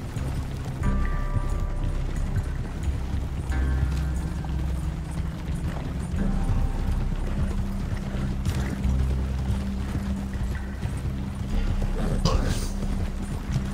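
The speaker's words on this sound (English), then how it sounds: "Yeah, that's my horse back there." Hooves clip-clop from a horse in a video game, an irregular, fairly close patter running under game noise, with a low mechanical hum throughout.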